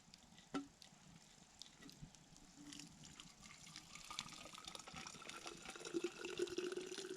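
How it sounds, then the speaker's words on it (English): Hot water is poured to fill a container at a freezing -16C cold-weather hammock camp, a faint, quiet trickle building in the second half with small gurgles near the end, after a single soft knock. "I'm going to fill this up with whatever hot water's left."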